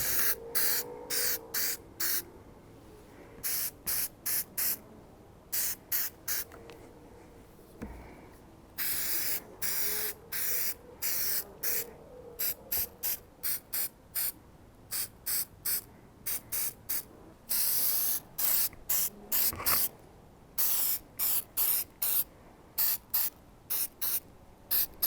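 Spray-on rust fix being applied from an aerosol can in many short, rapid hissing bursts with brief gaps, close up and steady in rhythm, no talking.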